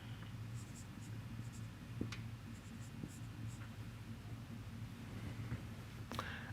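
Quiet, close scratching of pen or chalk writing out a physics equation, soft continuous strokes with a few sharper taps over a low steady background hum.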